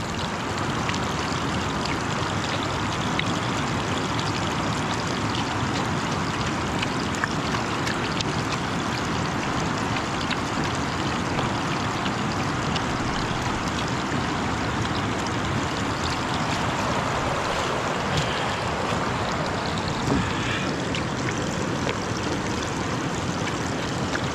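A river flowing steadily in an outdoor gold-panning spot, a continuous broadband rush and trickle of water close to the microphone with no voices, holding even for the whole stretch.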